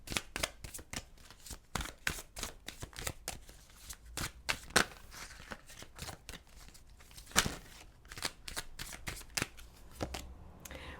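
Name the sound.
tarot cards being shuffled for a reading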